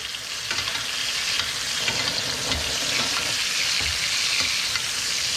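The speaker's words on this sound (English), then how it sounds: "So sizzling fat." Steady, loud sizzling of hot fat in a pan with seared chicken breasts, a constant crackling hiss with small pops throughout.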